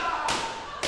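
A wrestler's cross body lands in a ring at a live wrestling show, with a single sharp thud followed by a second impact just under a second later.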